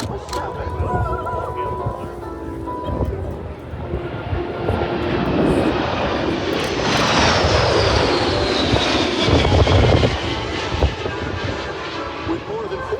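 The engines of a United Boeing 777 jet airliner roar during a flyover demonstration, swelling to a loud peak midway before easing off, with voices from the watching crowd underneath.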